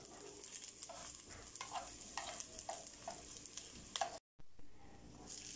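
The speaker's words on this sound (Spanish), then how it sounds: "A continuación voy a freír cebolla" Onion frying in oil for chiles rellenos, a close, continuous sizzle with repeated stirring scrapes at a roughly regular pace, briefly cut to silence near the end before resuming.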